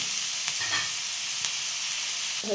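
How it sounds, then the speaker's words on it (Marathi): Five or six large onions fry in hot oil in a pan until reddish, giving a steady, bright sizzle with a few faint scrapes and clicks of stirring. No one speaks. "तिथे 5-6 कांदे घेतले मोठे. छान आपल्याला लालसर भाजायचं आपल्याला."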